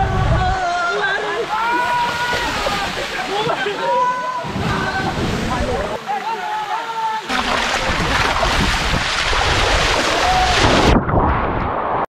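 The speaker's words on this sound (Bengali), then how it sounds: "100 ফুট উঁচু পাহাড় থেকে নিচে গড়িয়ে পড়ে ঝর্ণার জলধারা।" Waterfall cascading roughly 100 feet down a hillside at Richang in Khagrachari, Bangladesh, forming a natural water slide; a loud, steady broadband rush of falling and splashing water fills the whole clip, with voices faintly audible underneath.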